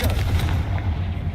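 Confringo blasting spell exploding in the Hogwarts Legacy video game, set in an old mine: a single heavy, booming blast with a deep rumbling tail, loud and close.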